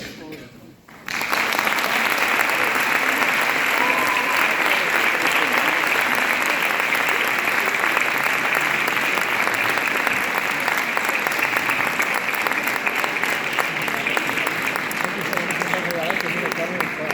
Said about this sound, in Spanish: Hay que aplaudir hasta que salga el último.